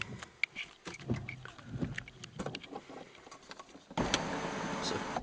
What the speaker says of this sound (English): that'll allow us to just show you the electric tilt slide sunroof